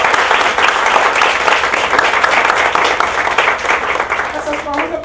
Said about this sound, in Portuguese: Palmas para a administração.